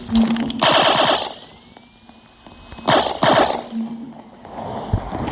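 Rapid bursts of machine-gun fire in the Roblox game Area 51, loud and close, in two volleys separated by quieter pauses.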